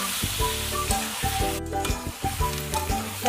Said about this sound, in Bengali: এইভাবে সুন্দর করে ভেজে নামিয়ে নেব।